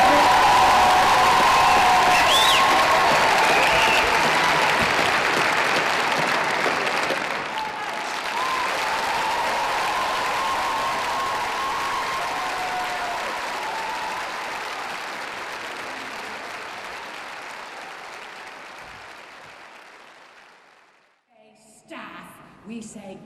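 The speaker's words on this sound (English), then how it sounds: "A round of applause for Hull Rodgers, ladies and gentlemen." An audience applauds and cheers to welcome humour speaker Kate Hull Rodgers: loud, sustained clapping with a few whoops that runs for about twenty seconds before tapering off, followed by faint brief sounds.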